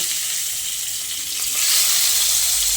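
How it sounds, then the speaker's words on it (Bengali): Pieces of rohu fish sizzle steadily in hot oil in a pan, a loud continuous hiss and crackle that swells slightly partway through, with no voices. "প্রথম ব্যাচের মাছ ভাজা হয়ে গেলে দ্বিতীয় ব্যাচের মাছগুলোকে দিয়ে ভেজে নিচ্ছি"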